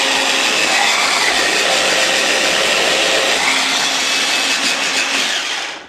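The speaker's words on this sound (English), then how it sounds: "So on into my little blender she goes." A small blender whirs loudly and continuously while blending oil-free pesto, a dense grinding motor roar lasting several seconds before winding down at the end.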